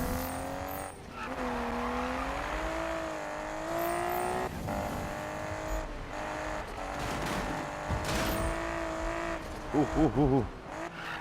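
A Nissan Skyline R32 in Need for Speed 2015 drifts through corners, its engine droning loud and steady with rising and falling pitch while the tires squeal and skid, and a voice makes excited exclamations near the end.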